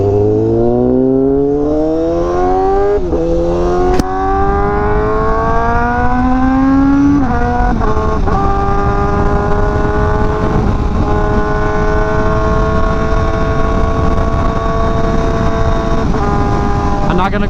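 A Honda Fireblade RR-R SP sport motorcycle with a reported fault accelerates hard, its engine note climbing loudly through several gear changes under heavy wind roar, heard close from the rider's position.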